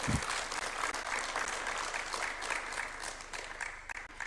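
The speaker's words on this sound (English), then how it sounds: "I think it's worth a good clap." An audience gives a steady round of applause at a live-streamed church gathering, a dense continuous patter of many hands, fairly faint and distant, holding evenly from start to finish.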